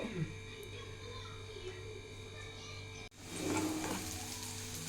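Onion and mustard seeds sizzle in coconut oil in a home kitchen, a steady low fry that turns louder and brighter partway through as more goes into the pan, with a faint hum behind it.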